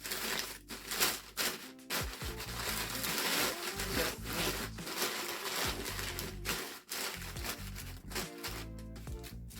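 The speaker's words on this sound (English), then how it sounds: "So I know that paper was very, very noisy." Tissue paper being crumpled, folded and pressed into a box, loud close crinkling and rustling in continuous bursts with brief pauses, no talking.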